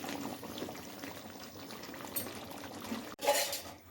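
Chicken semigravy simmers quietly in a pan, a soft, low bubbling that goes on steadily before a brief clatter near the end.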